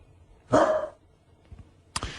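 A dog barks twice, close by, with a longer, harsh first bark and a short sharp second one after a brief quiet gap.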